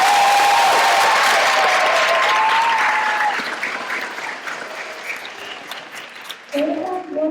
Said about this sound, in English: Clap your hands for kindergarten.